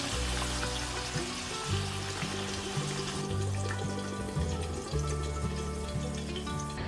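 Long beans just deep-fried in very hot oil drain off with a steady, close hiss and crackle of sizzling oil that continues throughout, with faint background tones and no talking.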